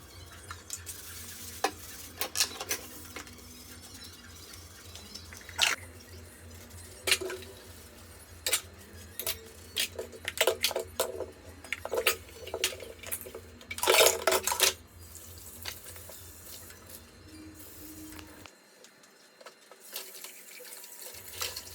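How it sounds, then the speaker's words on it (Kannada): Kitchen cleanup with dishes being handled, bringing a scattered series of clinks, scrapes and knocks of pots and utensils, some bursts of running water, and a steady low hum underneath, close by without speech. "ಅಷ್ಟೊತ್ತಿಗೆ ಕಿಚನ್ ಎಲ್ಲ ಕ್ಲೀನ್ ಮಾಡೋಣ ಅಂತೇಳಿ ನಾನಿಲ್ಲಿ ಕ್ಲೀನ್ ಮಾಡ್ತಾ ಇದ್ದೀನಿ"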